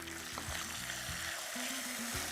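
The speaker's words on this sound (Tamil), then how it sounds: "நல்லா வதக்கிறோம்" Tomatoes sauté with softened garlic in a pan, a faint, steady sizzle with soft stirring touches beneath quiet background music.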